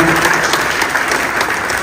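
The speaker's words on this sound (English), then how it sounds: "Carlos sir deserves a huge round of applause" An audience at a convention gives a round of applause, dense steady clapping throughout a short burst.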